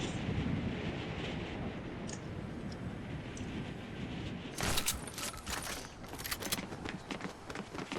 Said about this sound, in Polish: otwieramy zaraz trzecią paczkę żelków